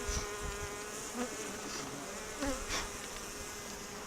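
Bees buzz densely and continuously around an open hive, a close, steady drone with occasional louder individual passes near the listener.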